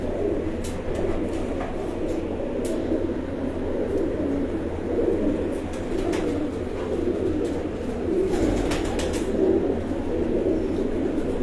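Teddy breed pigeon cooing softly and steadily among other birds on a rooftop loft, with a continuous low hum underneath and no talk.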